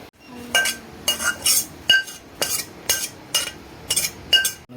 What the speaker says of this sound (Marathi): असा लाईट ब्राऊन खरपूस भाजून घ्यायचं खोबरं